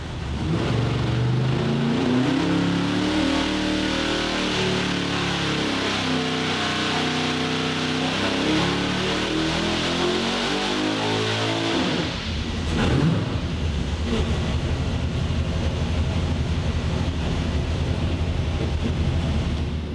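A 903 cubic inch Hemi engine on a dyno gives a loud, continuous roar. Its rising revs climb in pitch over the first twelve seconds, then it drops into a rough, steady rumble with heavy wind-like noise, and nobody talks.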